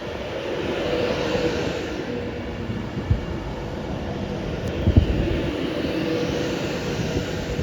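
A Pendolino train passes through Warrington Bank Quay station with a steady, loud rushing roar of wheels and air that swells and holds, plus a few clanks from the track.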